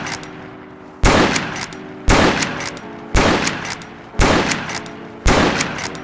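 Five loud, evenly spaced Yellowboy rifle shots in the Roblox Wild West game, each a sharp crack with a short reverberating tail, fired at a brisk rhythm about a second apart.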